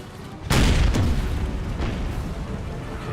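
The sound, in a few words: artillery guns firing in video game Empire: Total War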